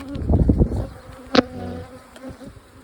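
Bees buzz around at close range, a cluster of droning wingbeats swelling briefly before settling into a fainter hum, with a soft knock partway through.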